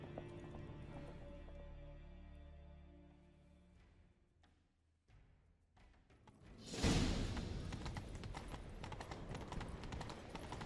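Horses gallop in The Witcher 3 video game, starting with a steady game soundtrack that fades before loud, close clip-clopping hooves and rushing motion take over.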